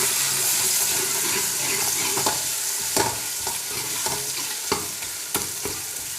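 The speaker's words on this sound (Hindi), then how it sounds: "लहसुन अदरक को भूनते हुए तकरीबन 1 मिनट हो गया था" Garlic and ginger paste fries with browned onions in a pan, a close, constant sizzle broken by repeated scraping clicks of a spoon stirring, with no talking.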